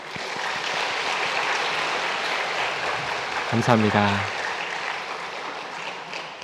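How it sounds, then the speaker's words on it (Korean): A Sunday worship congregation claps to welcome visiting newlyweds, producing a sustained, even wash of many hands. Someone briefly speaks over the applause midway. "잠깐 자리에 일어나 인사하실 때 우리 박수로 환영하도록 하겠습니다."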